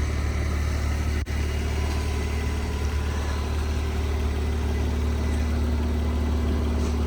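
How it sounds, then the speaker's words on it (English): A 2026 Porsche 911 Carrera 4S Cabriolet with sport exhaust idles steadily and close, a deep, even rumble with no revving, alone without talk. "This one's equipped with the sport exhaust."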